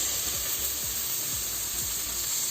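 Chopped onions hit a hot pan and sizzle steadily, a constant loud hiss with faint repeated clicks of stirring underneath, no talking.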